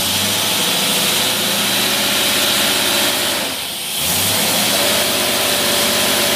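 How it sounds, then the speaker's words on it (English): A marine boat engine fitted with an AFB 750 carburetor runs on a dyno with a loud, steady, rumbling drone. It dips briefly midway as the revs change, then settles back to a constant roar. "Let's see what it'll put out."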